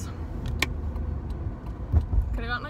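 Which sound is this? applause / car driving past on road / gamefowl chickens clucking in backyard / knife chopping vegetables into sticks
car driving past on road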